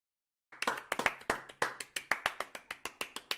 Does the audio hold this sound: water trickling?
no